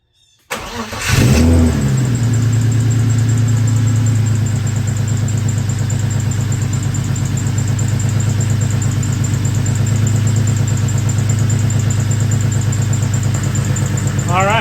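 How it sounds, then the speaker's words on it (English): A BMW E36 fitted with B58 coil packs cranks and fires, then settles into a steady, even idle that runs loud and close with no misses and no talking. "so I'm gonna let this idle for a little bit, warm it up, get it at the temperature"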